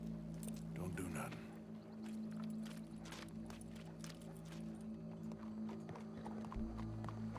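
Horse hooves clip-clop in a steady rhythm with a brief whinny, heard at moderate distance beneath people talking, over a low background hum.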